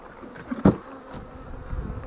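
Honeybees buzz around an open hive being moved and rearranged by a beekeeper, a low steady drone with a brief louder burst as something is handled close by.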